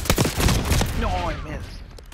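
Gunfire in Call of Duty Black Ops 6: a quick, loud volley of close shots opens, then a voice talks as the shooting fades.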